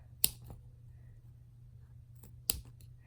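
Scissors snip through layers of chenille fabric in two sharp, crisp cuts a couple of seconds apart, close and quiet against a faint hum.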